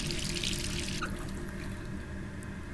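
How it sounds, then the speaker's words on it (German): A bathroom water tap running in a Resident Evil video game, a continuous close rush of water, with a brief drip-like splash about a second in and no one talking. "Wasserhahn auch noch laufen lassen."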